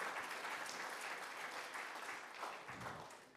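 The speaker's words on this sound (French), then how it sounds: "On peut les applaudir" Faint audience applause at a talk on planetary action and health, a continuous even patter of many hands heard from a distance.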